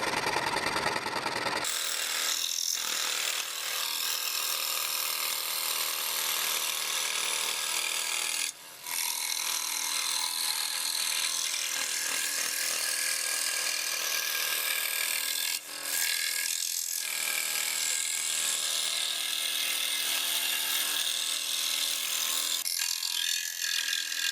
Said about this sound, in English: I take my pattern over to the scroll saw and cut out the one large piece first before cutting out each individual piece.